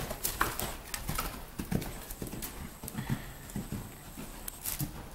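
A horse cantering during a riding session, its hooves clip-clopping in a steady rolling rhythm at close range, with occasional faint voices in the background.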